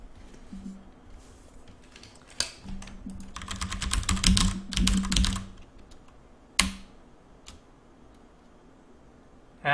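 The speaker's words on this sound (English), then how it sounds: "I think it's just my keyboard." Computer keyboard typing up close, a dense burst of quick key clicks in the middle with a few isolated louder taps before and after, otherwise quiet.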